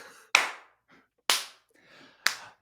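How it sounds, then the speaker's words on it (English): Three slow, evenly spaced hand claps ring out sharply and close by, each fading quickly into near silence before the next. "And then you hear a slow clapping as Jack enters."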